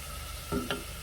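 Bacon sizzles faintly and steadily in a pan, with a couple of quick utensil clicks.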